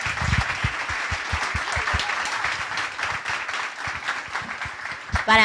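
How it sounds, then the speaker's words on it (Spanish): An audience at a conference panel claps steadily in sustained applause, fairly dense, ending with a brief voice at the close. "primero los aplausos"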